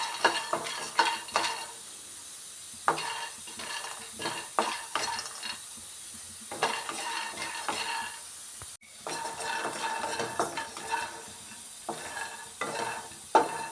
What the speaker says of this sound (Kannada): ಫ್ಲೇಮ್ ಮೀಡಿಯಮ್ ಮೇಲೆ ಇಟ್ಕೊಂಡು ನಾವು ಹುರ್ಕೊಬೇಕು ಕಡಲೆ ಬೀಜನ.